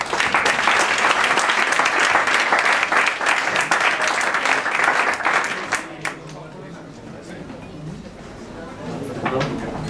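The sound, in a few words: audience applause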